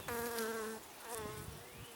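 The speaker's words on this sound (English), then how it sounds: "They're just bubbling out of the hive right now. A lot of bees in here." Honeybees swarm out of a hive in the early morning, one bee buzzing loud and close over a steady background hum of many others, the pitch rising and falling as it passes.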